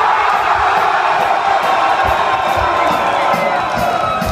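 A large festival crowd at a Fiddler's Green Wall of Death show shouts and cheers loudly and continuously on request, a dense, sustained roar of many voices with scattered whoops.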